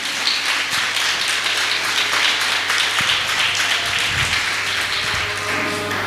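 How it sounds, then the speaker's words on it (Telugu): A church congregation clapping their hands at a Sunday worship service, a dense steady patter of many hands filling the hall, continuous and moderately loud throughout. "చప్పట్లు కొట్టండి."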